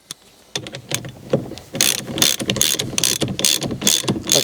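A bolt being tightened back onto the steering wheel of a 2021 Audi A3 8Y: a faint tap, then a run of quick, close ratcheting clicks in short bursts, with no talk.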